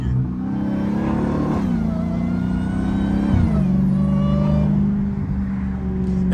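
A catless, supercharged Dodge Hellcat engine revs loudly and close by, holding a steady roar throughout with its pitch rising and dropping between revs, and no voices over it.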